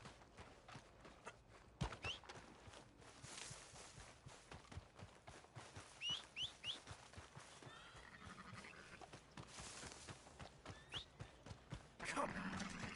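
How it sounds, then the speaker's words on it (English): Horse hooves clip-clopping in a steady rhythmic gait in Red Dead Redemption 2, with occasional snorts and tack sounds, moderately close but quiet overall. "That horse don't listen."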